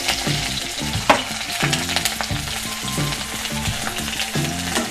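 Onions sizzle and crackle in a hot pan, close up, with rhythmic scraping of a spatula stirring them and no voices.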